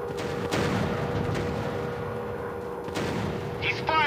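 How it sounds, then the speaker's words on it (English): Gunfire and explosions from a WW2 aerial dogfight video game roar continuously, a dense layered rumble of cannon and artillery bursts with periodic booms, loud and sustained under faint background game effects. "He's firing at me."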